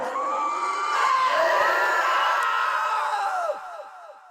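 A loud, sustained scream from SCP-096 in the video game SCP Containment Breach, with layered wailing harmonics that hold steady for several seconds before breaking off into fading, falling shrieks near the end.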